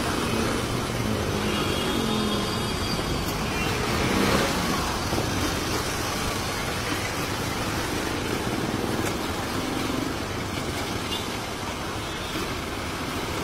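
Street traffic in Manila, a steady dense wash of engines and road rumble with no break, moderately loud and continuous throughout.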